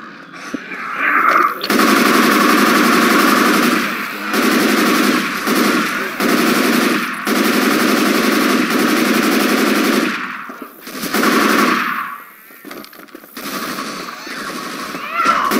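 Machine gun fire in the Left 4 Dead video game, long loud sustained automatic bursts broken by short pauses and reloads, close and dominant.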